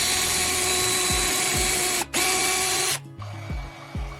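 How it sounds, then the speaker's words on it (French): A power drill bores lengthwise into a plastic toothbrush handle clamped in a vise, a loud steady whine that briefly stops, restarts, then drops to a lower drone, with a few clunks along the way. "Serrez-la dans un étau et percez un trou le long du manche."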